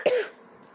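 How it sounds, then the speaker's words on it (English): A single short cough from someone who is sick, sharp and close, fading quickly into quiet. "I apologize for coughing so much."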